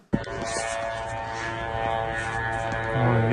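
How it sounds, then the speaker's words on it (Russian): A drone flies overhead during a strike on Kyiv, producing a steady buzzing propeller drone that holds throughout and grows slightly louder and lower toward the end, with no voices. "летит еще один дрон."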